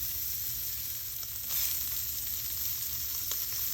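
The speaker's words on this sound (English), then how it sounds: "When the cast iron begins smoking, start cooking the fat." Beef fat fries in a smoking-hot cast iron pan on high heat and sizzles loudly and evenly throughout, with one brief swell partway through.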